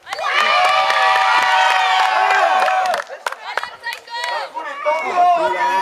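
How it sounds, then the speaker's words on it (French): A wrestling event crowd roars and cheers loudly, dense excited shouting with high children's voices, then breaks into scattered whoops and yells, close and full throughout. "La foule est en délire."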